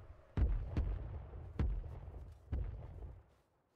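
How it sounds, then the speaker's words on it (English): Missiles launching in the video game Rust, four sharp booming thumps spaced about a second apart, each followed by a short rumbling tail, fairly faint with no talk. "Where are those missiles going?"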